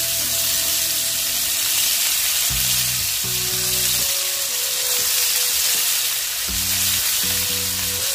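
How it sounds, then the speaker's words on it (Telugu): Chicken pieces for capsicum fried chicken fry in olive oil in a pan over a medium flame, with a strong, close, unbroken sizzle and crackle throughout, backed by low musical tones. "ఇలా వేయించుకోండి చికెన్ ముక్కల్ని"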